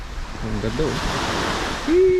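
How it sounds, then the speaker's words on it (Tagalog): Ocean waves wash against the shore at Anda Beach in Bohol, a steady broadband surf rush running through the whole clip beneath a brief spoken remark, with a short tonal whistle-like sound near the end. "yung tunog ng tubig na umahampas sa shore."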